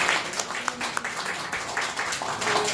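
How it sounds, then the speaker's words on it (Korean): Audience at a book concert for Professor Hwang Su-yeon claps together, a brief burst of dense applause filling the room. "박수로 우리 황수연 교수님께 한 번 더"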